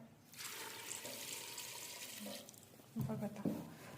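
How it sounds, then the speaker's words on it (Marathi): Water runs from a kitchen tap into a pot of peanuts for boiling, a soft steady splashing rush that turns into clunks of the vessel near the end, with faint talk in the background. "एवढं पाणी टाकून घ्यायचं."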